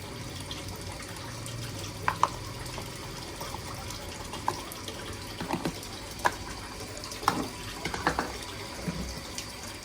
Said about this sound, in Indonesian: Yang terakhir kita akan masukkan bakteri fermentasinya sebanyak 100 ml.